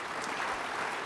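Applause from an audience at a conservative political summit, a steady dense wash of clapping held at even volume throughout the short moment, with no voices rising above it.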